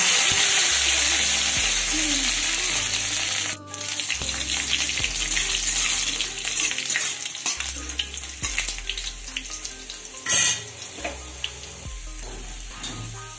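Seven or eight garlic cloves and black mustard seeds sizzle steadily in hot oil for a Bengali green-tomato dal, with a continuous frying hiss, intermittent low clunks and scrapes, and a brief burst of spatter near the end.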